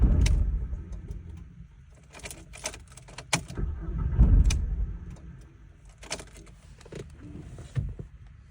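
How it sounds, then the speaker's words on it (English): A turbocharged Volkswagen Jetta wagon with the clutch held in cranks and catches, then the engine dies, leaving low rumbling bursts close by with key and interior clicks between them. "It'll start up and cut off."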